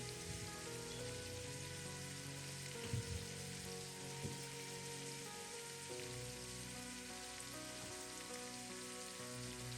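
Salted onions fry in a pan as the base of a spicy prawn bhuna, a faint, continuous crackling sizzle like light rain, with a low steady hum beneath and no talk.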